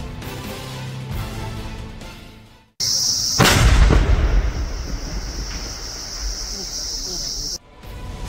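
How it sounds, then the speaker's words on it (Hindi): A sudden loud explosive boom as the army destroys an IED beside a highway, with a deep rumbling tail, followed by sustained broadband noise and a steady high hiss, heard alongside other background noise. "सेना ने उस आईईडी को नष्ट किया है जो आतंकियों ने हाईवे के किनारे लगाया था।"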